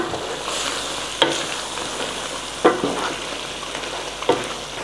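Beef with four to six green chillies frying steadily in a pan for an Eid recipe, a continuous close sizzle broken by three sharp scraping stir strokes, with no talking.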